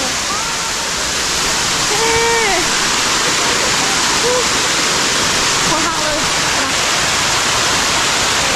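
A waterfall near a valley village roars in a loud, continuous, close wash of rushing water, while a person's excited voice speaks briefly over it.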